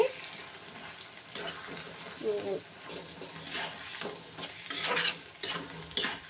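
Coriander and red chilli chutney frying in hot oil with tempering, a soft steady sizzle with spoon scrapes and stirring clatter against the pan, while someone talks over it.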